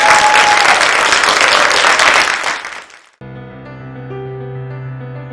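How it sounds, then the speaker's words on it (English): An audience at a Theatre of the Oppressed festival breaks into dense, loud applause that fades out after about three seconds, followed by sustained musical tones. "let's give them applause"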